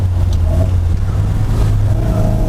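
Triumph TR4A British sports car with an inline four-cylinder engine and overdrive, a close, loud low engine drone while driving, with a steady throb and slight rises in pitch.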